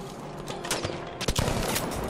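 Rapid automatic gunfire from a fast-firing weapon in Battlefield V crackles in dense, overlapping bursts, loud and close, with a few sharper shots standing out over a continuous rattle.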